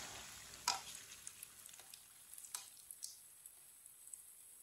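Chicken kabab patties frying in a pan, a soft steady sizzle with faint scattered pops and one sharper crackle early on, quiet and close with no talking.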